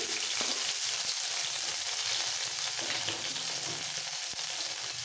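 Six or seven finely chopped garlic cloves with slit green chillies fry in oil for kolmi shak, producing a soft, even, continuous sizzle with a few faint stirring taps.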